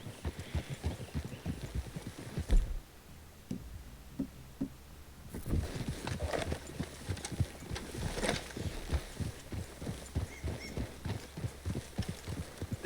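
Several horses ridden at a walk in a video game clearing, their hooves clip-clopping in a steady, overlapping rhythm at close range, pausing briefly before resuming with a faint snort and ambient hum beneath.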